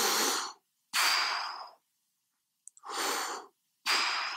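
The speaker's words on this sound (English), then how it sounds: "And you get a kind of shallow breath." Quick, shallow breaths drawn from the upper chest, three or four close, breathy inhales and exhales separated by short silences.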